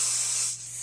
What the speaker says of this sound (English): spray it all in